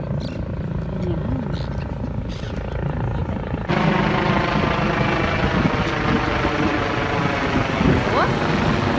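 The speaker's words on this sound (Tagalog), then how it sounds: "Oh, helicopter." A helicopter's rotor thrum and engine whine over a beach in Dubai, steady and fairly close, growing louder midway and holding, with faint voices under it.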